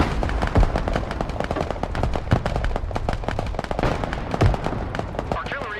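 Artillery fire in a combat video game, a rapid run of sharp cracking blasts with a few heavier thumps, close and dense, with radio chatter beneath.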